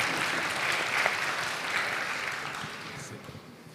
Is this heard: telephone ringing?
no